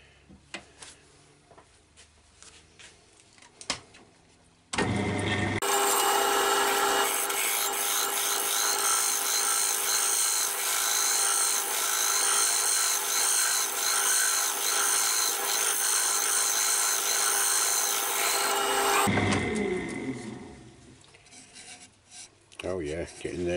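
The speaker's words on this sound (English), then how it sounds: "This is the first time I've really had a proper go at hollowing out." A woodturning tool hollows out an ash bowl on a lathe in one loud, continuous scraping rasp lasting about fourteen seconds. Quieter tool handling comes before and after it, and there is no speech.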